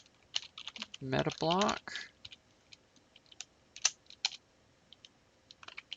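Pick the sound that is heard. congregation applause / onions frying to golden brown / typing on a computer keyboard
typing on a computer keyboard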